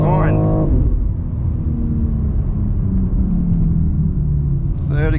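A BMW X4 M Competition SUV pulls hard at full throttle in third gear, its engine a steady, loud, low drone lasting throughout, with a voice talking over it at the start and briefly at the end.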